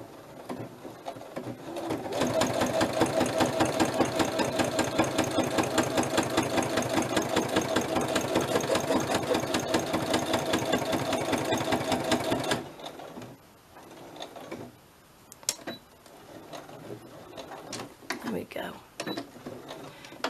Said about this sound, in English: when I sew on the sewing machine